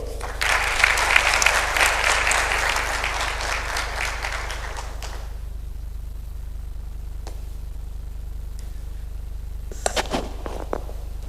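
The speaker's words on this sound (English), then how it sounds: "I think I heard a little round of applause." Audience applause after an address at a conference, dense clapping for about five seconds that stops abruptly, leaving a quiet room with a few faint knocks and a short later rustle.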